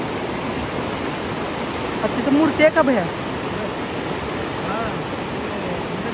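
Water flows past near Hipparga lake, a steady broadband rush close by, with a man briefly asking a question partway through.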